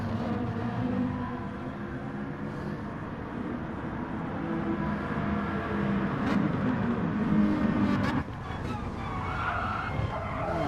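A Ferrari 458 Italia GT4 race car in the Gran Turismo video game drones and skids through corners at Suzuka, engine noise steady and loud with tyre squeal rising midway, under commentary.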